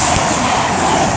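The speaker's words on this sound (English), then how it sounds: "Pendolino." A Pendolino train passing Tamworth station, a loud, close, continuous rushing roar with low rumble, no break across the moment.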